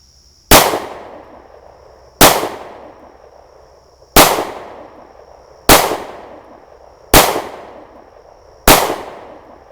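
Six loud, evenly spaced pistol shots from a Taurus G2S ring out at a cardboard target, each a sharp crack with a brief decaying tail about every second and a half.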